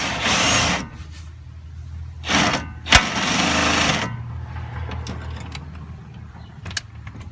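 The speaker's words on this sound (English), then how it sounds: "Cordless impact works, but if you have air one, you can use that too" Impact wrench bursts on a 19 mm suspension bolt while a lower control arm and sway bar link are replaced on a G35. Several loud, harsh bursts of roughly a second each stand out, with the work area going quiet in between.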